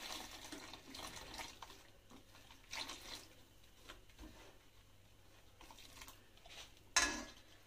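Melted jaggery water poured little by little into a mixture while it is stirred, giving soft, uneven watery splashes and trickles with faint stirring, plus a brief louder clatter near the end.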